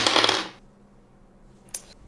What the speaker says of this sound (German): Helen, du kannst dann mal auf Hacken würfeln